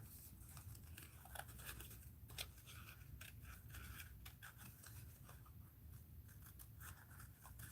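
Small scissors fussy cut a paper image of a Tim Holtz lady figure, making continuous faint snipping and crisp paper rustling close by, with irregular little clicks of the blades throughout.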